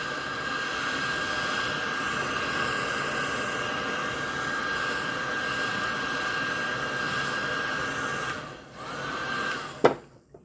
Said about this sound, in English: See how they're shrinking this package up?